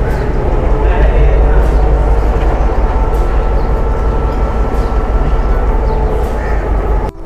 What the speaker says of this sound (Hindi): तो ये GME 154806 आ चुका है ट्रेन की लीड पर लगने